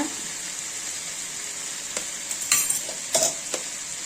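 Tomato masala for mutton keema sautéing in a pan, a steady bright sizzle with a few louder scraping stirs near the end, close and without speech.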